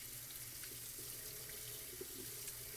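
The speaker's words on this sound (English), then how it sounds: "I want to give these a nice rinse. Okay, cold water." Cold tap water running steadily into a colander of canned black beans at a kitchen sink, a constant hiss and splash with faint pattering as the beans are rinsed.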